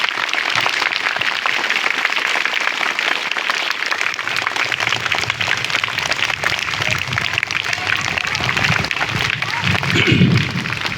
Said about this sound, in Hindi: िजय भाई अग्रवाल साहब, और गुजारिश करता हूं कि आए हुए मेहमान का जोरदार तालियों से इस्तेमाल करें।